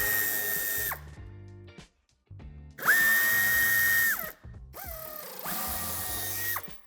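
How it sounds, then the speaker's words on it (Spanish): A power driver whirs in bursts as it backs out Torx 25 screws from the wheel arch of a 2016–2019 Audi A3 8V sedan, several close, loud runs with short pauses and ratcheting between them. "Empezaremos quitando los 6 tornillos de Torx de 25."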